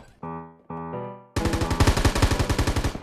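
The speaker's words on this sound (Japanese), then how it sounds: "左右から銃声が聞こえる気がするけど" Knives Out battle royale game: two short tonal electronic blips are followed by loud, rapid automatic gunfire, a sustained burst of evenly spaced shots close up, with no voices.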